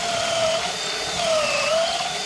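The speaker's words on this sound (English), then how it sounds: "we're going to go ahead and drill a couple holes in here too" A steady, high-pitched power drill whines continuously, its pitch dipping and rising slightly as it bores holes in a wooden boat cabinet panel, close and fairly loud.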